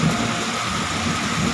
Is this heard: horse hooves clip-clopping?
no